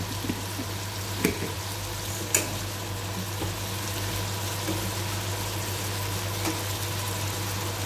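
Mung beans frying in a pan, a steady close sizzle with a couple of sharp utensil clinks as they are stirred.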